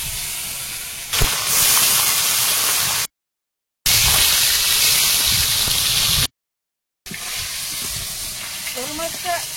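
Snakehead fish fries in hot oil in a pan over a wood fire in the Sundarbans, a loud, dense, steady sizzle that twice cuts out completely and resumes.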